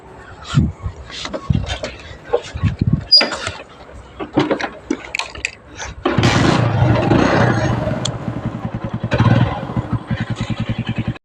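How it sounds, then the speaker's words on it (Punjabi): A motorcycle engine settles into a steady, throbbing run with a rapid regular pulse after several seconds of people talking, carrying riders on the way to a grain market. "ਚੱਲਦੇ ਆਪਾਂ ਮੋਟਰਸਾਈਕਲ ਤੇ"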